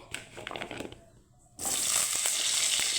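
Pointed gourd and potato pieces drop into hot oil, first a few faint crackles, then a sudden loud, steady sizzle and spatter of frying that holds on close.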